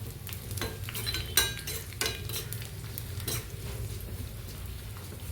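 Dried chillies and curry leaves fry in an iron pan, a steady close sizzle broken by a few sharp clinks and scrapes of a stirring utensil, with no voice.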